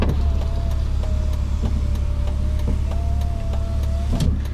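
A steady electric motor whine from a BMW E46 power window raising the glass, holding a constant pitch over low engine rumble, with faint periodic ticks, ending in a soft clunk as it stops.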